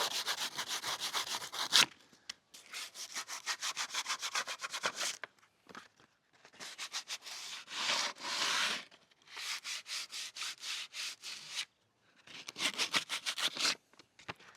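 Rhythmic scraping of sandpaper on wood in several bursts, fast back-and-forth strokes with short pauses between, close and steady.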